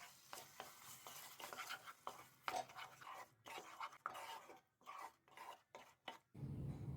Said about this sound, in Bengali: দইটা মিশিয়ে নিচ্ছি।